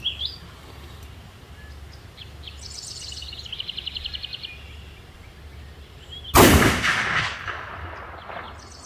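A Savage Scout rifle chambered in 450 Bushmaster fires a single loud, close shot that booms and rings out over an outdoor hunting setting, with birds chirping faintly beforehand.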